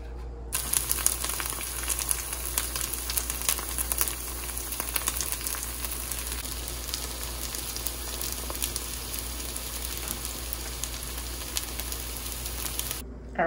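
Onion and food cook in a pan with a constant, even sizzle and crackle that runs unbroken for the whole stretch, close and moderately loud with no voices.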